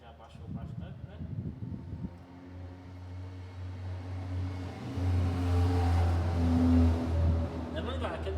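A Fiat Bravo engine idles steadily after a radiator replacement and cooling-system flush, a low continuous hum that grows somewhat louder partway through, with a voice speaking over it.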